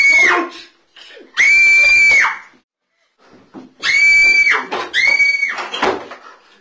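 A person screams in several loud, piercing bursts at close range, separated by short silences and breaths, with the last two shrieks coming in quick succession.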